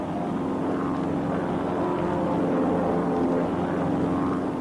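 Propeller airplane engine droning steadily during formation flight at full throttle, a loud continuous near hum with no voices.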